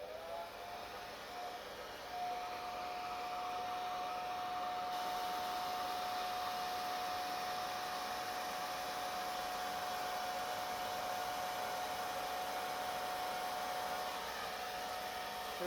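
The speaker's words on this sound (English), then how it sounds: "I have my blow dryer set on cool air, and I'm going to blow it on low speed." A blow dryer runs on the cool setting at low speed, giving a steady airy whoosh with a thin constant whine that holds evenly for the whole stretch, fairly quiet and with no voices.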